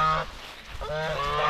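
A goose honks twice, close and fairly loud, two nasal calls separated by a brief pause, with no talking.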